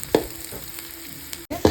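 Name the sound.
onions frying in a pan for mutton sukka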